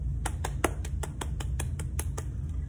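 A single person claps slowly and evenly for a read-aloud children's book, about ten crisp close claps spaced roughly a quarter second apart.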